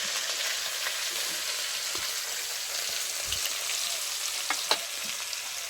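Garlic cloves sizzle steadily in hot oil in a pan during village-style Bangladeshi cooking, with a continuous bright frying hiss and a few soft clicks of stirring near the close.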